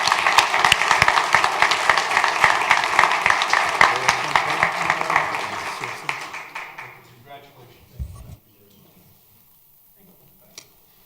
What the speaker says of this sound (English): So let's give him a round of applause and wish him well.